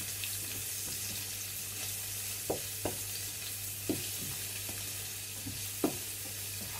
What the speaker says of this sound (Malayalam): അനിയൻ മഷ്റൂം ഇത്രയും നമുക്ക് ഒന്ന് വഴറ്റിയെടുക്കാം.